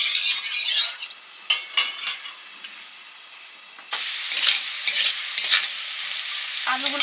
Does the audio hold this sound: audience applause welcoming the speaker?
no